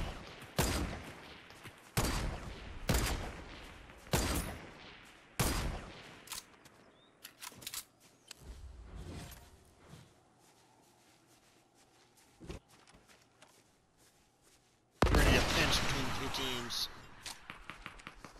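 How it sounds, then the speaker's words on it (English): Gunfire in the video game Fortnite, with repeated loud sharp bursts of shots at irregular intervals, some close and some more distant, followed by a dense sustained volley near the end, with players talking between shots. "somebody's fucking shooting at me"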